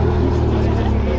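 A Ferrari Pista arriving at a gathering of supercars, its engine a steady, deep rumble that stays loud throughout under a background of crowd voices.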